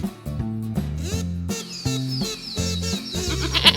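Goat bleats, repeated wavering cries layered over a bouncy musical backing in a children's farm-animal setting, loud and close.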